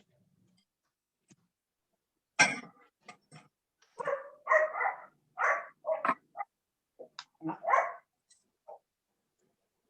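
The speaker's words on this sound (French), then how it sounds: "Il y a un petit chien qui veut du chocolat." A small dog gives a run of short, sharp, high-pitched barks in quick bursts, close by in a quiet room, with a brief word spoken at the very start.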